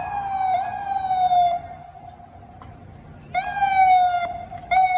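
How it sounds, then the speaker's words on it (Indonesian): A toy ambulance sounds its electronic siren, a wailing tone in two loud bursts separated by a quieter pause, with no talking. "yang ini mobil ambulan teman-teman"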